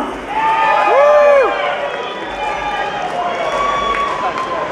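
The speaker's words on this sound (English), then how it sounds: "Everybody make some noise if you want her to win." A crowd at a go-go dancer contest cheers and whoops loudly for a contestant, with high shouts rising over steady crowd noise and an announcer's voice heard at times.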